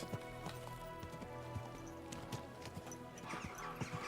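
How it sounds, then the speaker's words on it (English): Steady clip-clop of horse hooves at a walking pace in the video game Kingdom Come: Deliverance II, close and even, with a faint ambient music bed underneath and no talking. "Easy, good horse."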